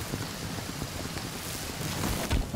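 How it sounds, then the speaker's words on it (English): Rain falls in the survival game Sons of the Forest as a steady, broadband hiss, with soft low thumps and a slightly louder swell near the end and no talking. "Of course, it is raining."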